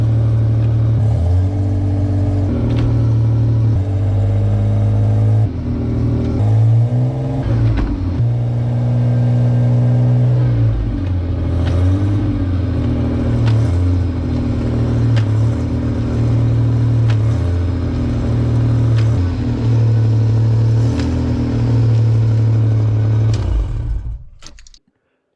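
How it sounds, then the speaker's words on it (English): Ford Explorer with an M5OD-R1 manual gearbox whose fifth gear pops out, heard as a steady close engine drone with repeated revving swells and dips, cutting off abruptly at the end. "let's see how fifth gear pops out."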